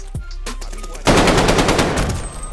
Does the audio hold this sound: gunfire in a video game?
yes